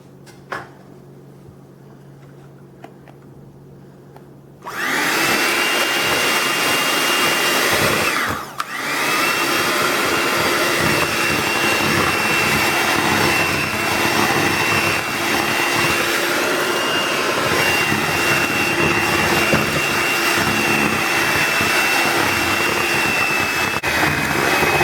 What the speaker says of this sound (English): we add the dry ingredients to the pumpkin mixture and mix until smooth